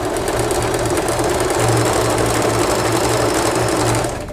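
An Usha Janome sewing machine runs steadily through a stitch, its needle motor humming with a fast, even mechanical rhythm, close and fairly loud with no talking.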